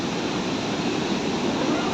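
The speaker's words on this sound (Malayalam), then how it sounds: "മുറുമുഴി ഡാം എന്ന് പറഞ്ഞ ഡാം കവിഞ്ഞൊഴുകി വരുന്നൊരു മനോഹരമായിട്ടുള്ളൊരു കാഴ്ചയാണത്" Water overflowing the Murumuzhi dam near Athirappilly pours in a dense, continuous roar, loud and unbroken with no voices.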